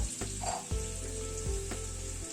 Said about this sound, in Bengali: এবার আলুটাকে একটু ফ্রাই করে নেব